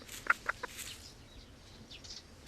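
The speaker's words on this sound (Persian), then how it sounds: "یک خروس یک ماکیانه" Chickens, a rooster and a hen, at a market where two birds are sold, make a few quick faint clucks near the start against a quiet outdoor background.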